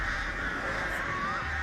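Crows caw steadily from the Artist's power in a horror video game, a continuous raspy chorus of calls filling the scene at close range.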